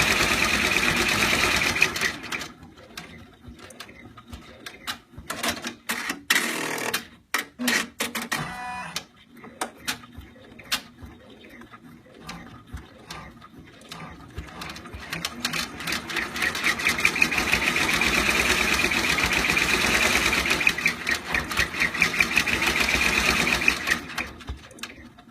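Baby Lock single-needle embroidery machine running steadily, a continuous mechanical whir and rapid stitching clatter that pauses briefly then resumes louder, close and alone without talk.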